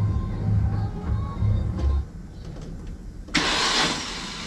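A Renault Clio 182 Cup engine cranking over on the starter in rhythmic chugging pulses, then a sudden loud burst of hissing spray close by.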